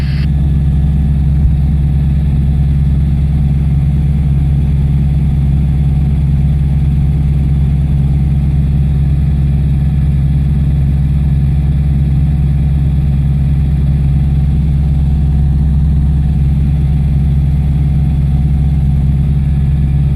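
Diamond DA20 light training aircraft engine throttled back to idle during a simulated engine failure in flight, a steady low drone with constant propeller and wind hum throughout, loud and unbroken with no talking.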